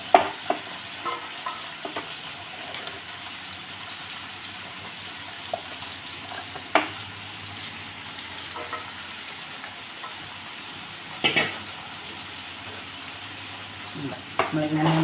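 Vegetable pieces for avial are stirred in hot oil in a pan, giving a continuous close sizzle and frying crackle with scattered scraping and clinking from the stirring throughout.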